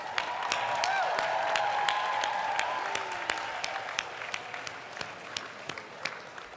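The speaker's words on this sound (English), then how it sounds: "thank your family, friends, and loved ones with a big round of applause and cheers" Graduates, families and friends at a Class of 2022 commencement for the School of Business and School of Education applaud in a broad, sustained wash of clapping. A few faint whoops rise through it, and the applause thins into scattered claps near the end.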